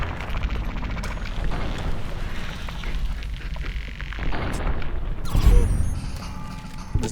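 A grenade blast in the video game Fallout New Vegas, a loud low boom that swells near the end of a noisy stretch of game sound and rumble, with no clear speech.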